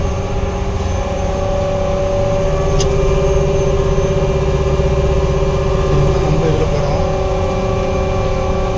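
A vehicle delivering a new sugarcane harvesting machine drives off the main road toward a sugar mill, its engine a loud, steady, close drone with a constant tonal hum throughout.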